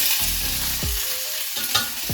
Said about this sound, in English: You just kind of want some of that extra fat that's on the outside to just burn down and render.